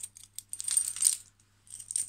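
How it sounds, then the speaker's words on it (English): Everyday-carry keys are handled close up, giving bright metallic jingles and clinks in a few short bursts with brief pauses between. "And besides that, there's just keys."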